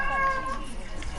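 A cat meows once, drawn out and fairly close, heard indoors during an Overwatch competitive gaming session with background noise.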